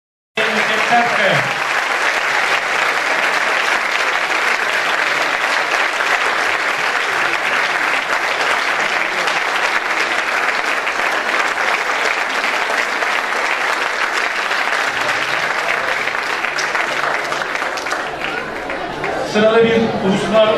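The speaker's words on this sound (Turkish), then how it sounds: "Büyük bir alkış" Loud, sustained applause from a large audience at a school achievement award ceremony, dense clapping filling the hall almost continuously for twenty seconds before tapering slightly near the end, with faint chatter mixed in.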